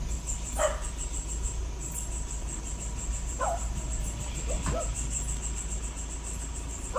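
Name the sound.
dogs barking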